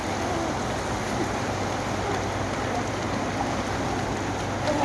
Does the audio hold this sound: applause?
no